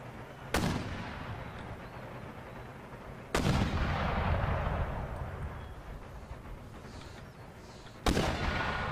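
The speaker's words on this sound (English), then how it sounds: "Those mortars are an absolute menace." Mortar artillery fire in the Empire: Total War battle game, three heavy booming blasts spaced several seconds apart, each followed by a long rumbling roll beneath a dense, continuous battle din.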